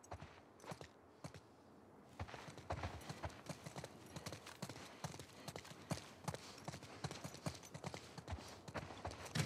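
Horse hooves clip-clop steadily in The Last of Us Part II, a brisk rhythmic series of close, distinct hoof strikes on the ground continuing throughout with no talk.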